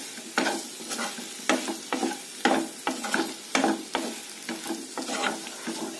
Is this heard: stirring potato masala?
yes